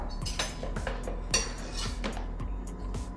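A metal spoon scraping and clinking against a lasagna pan while spreading a meat and vegetable mixture, sounding as repeated close taps and scrapes in an uneven rhythm.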